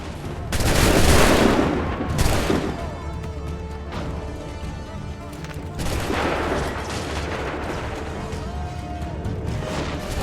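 A musket volley in Assassin's Creed 3 cracks out as a loud ragged burst of many shots near the start, followed by a second rolling volley later amid battle din.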